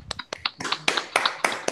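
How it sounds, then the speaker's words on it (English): Audience applause at the end of a live storytelling night, heard as a short run of sparse, separate claps from a small crowd, fairly quiet and slightly irregular. "So another round of applause,"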